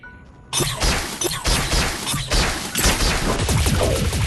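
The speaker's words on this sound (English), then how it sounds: "When you grapple to them with a web, and you go onto them, it explodes like a grenade" Webrunner's webs in Hero X Hero VR burst like grenades, a rapid crackling chain of sharp pops and bangs that starts suddenly and keeps popping densely and loudly for several seconds.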